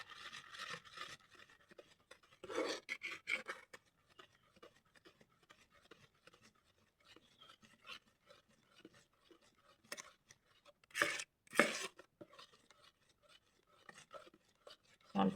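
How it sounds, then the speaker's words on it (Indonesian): Homemade liquid soap mixture being stirred in a container, soft intermittent scraping and swishing strokes, quiet and close, with a few louder rasping bursts near the end. "Kita aduk."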